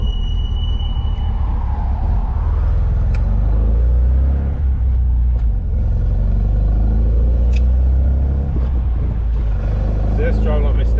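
An MG car's engine runs on a rolling road dyno with a steady, loud low rumble and occasional mild revving, close up, while people talk over it.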